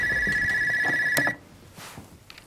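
An electronic telephone rings loudly with a steady high tone, then stops abruptly partway through, leaving quiet room sound.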